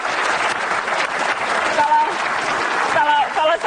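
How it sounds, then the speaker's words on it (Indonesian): Studio audience applauding for Bang Rocky on the Indonesian talk show Mata Najwa, a steady dense clapping wash lasting several seconds with a host's voice talking over it near the end. "Kasih tepuk tangan dong untuk Bang Rocky"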